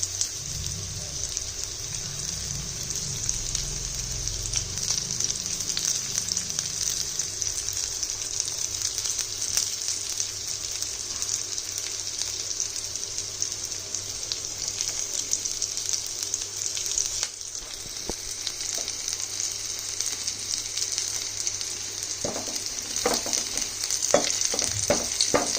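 Garlic pieces frying in oil for chilli chicken, a steady broadband sizzle throughout with a low rumble early on and a few sharp spatters and utensil clicks near the end; no talk.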